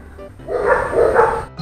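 A Cane Corso guard dog gives a loud, close bark-like burst lasting about a second, with a rough, throaty character and no talk over it.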